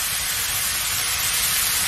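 Thin slices of beef brisket stir-fried with chopped green onion and minced garlic give a steady, dense sizzling hiss from the pan, constant and close with no break and no voices.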